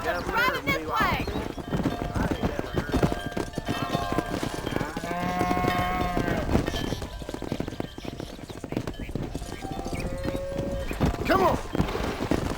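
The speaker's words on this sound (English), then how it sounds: "Herd the cows down the road." Horse hooves clip-clop alongside a herd of cattle being driven down a road in the Western game Red Dead Redemption 2, with occasional animal calls and a music score over steady, busy ambience, and voices shouting over it.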